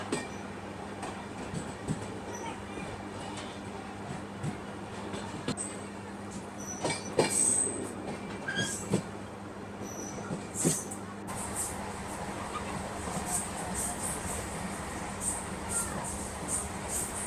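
A DMU passenger train on the Kashmir valley route rolls steadily along the rails, a continuous rumble with occasional clacks and faint squeals, loud and close throughout with no talk.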